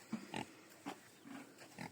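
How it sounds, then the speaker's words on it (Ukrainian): A pig grunts quietly in several short bursts as it shuffles around its pen and pushes at its cage, with low background noise between grunts. "Культурна свиня, культурна."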